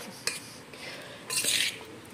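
A spoon mixes salted raw mango pickle, giving a sharp clink near the start and a brief burst of wet scraping stirring midway, close and moderately quiet.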